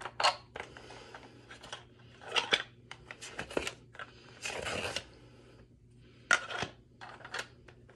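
A wooden crayon made from tree wood scratches across paper in quick, dry strokes, a series of short rasping bursts with brief pauses between them, close and fairly quiet.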